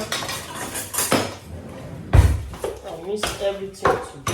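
A spoon scrapes and clanks against a pot while rice is mixed for coconut jollof rice: loud, irregular metallic knocks and rubbing strokes close by, with a voice briefly heard between them.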